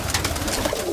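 Pigeons coo in a low, throaty murmur at the El Moro pigeon show, a close, steady rumble of overlapping calls lasting under a second.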